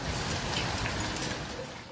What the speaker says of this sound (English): torrential downpours caused flooding and traffic problems across the UK late yesterday